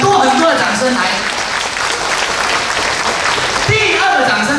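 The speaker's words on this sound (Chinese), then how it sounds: "所以呢这个掌声我们先给他的努力，先给他的认真，很多很多的掌声来" A party audience claps at a birthday gathering, a few seconds of steady applause with voices mixed in and speech returning near the end.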